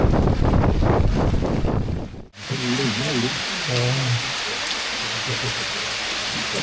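Heavy rain with wind in forest near a tiger reserve in Pilibhit, a dense continuous roar of rainfall close to the microphone after a brief gap, with a voice speaking over it at moments.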